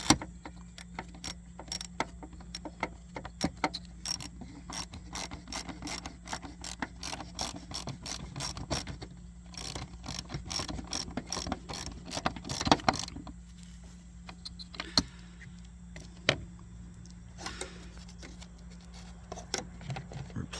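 Screws are snugged lightly into the plastic housing of a mass air flow sensor on a 2010-16 Buick Lacrosse, giving a quiet run of closely spaced ratcheting clicks that pauses and resumes, close up and faint.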